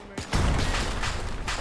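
A grenade bursts in a World War II video game set at the Battle of Tarawa, a loud thudding boom followed by a rumbling roar and debris that carries on to the end.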